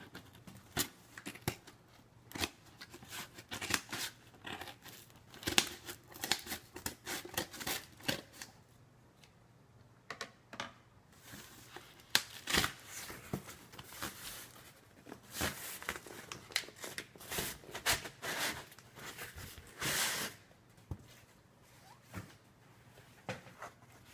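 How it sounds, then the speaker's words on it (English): Unboxing packaging being cut open, with irregular bursts of crinkling, scraping and snipping of cardboard and wrap, close and quiet with pauses between bursts. "I think I'm going to continue to cut"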